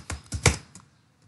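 Typing on a computer keyboard, three or four quick close keystrokes in a short burst, then quiet.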